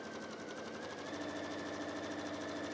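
A sewing machine runs steadily, stitching a picnic blanket, with an even, continuous mechanical whirr and rapid needle chatter throughout, close and alone.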